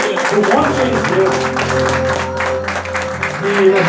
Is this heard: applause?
yes